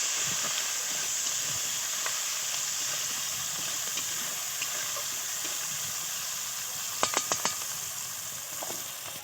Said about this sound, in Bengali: দিয়ে একটু ভেজে নিতে হবে পেঁয়াজটা।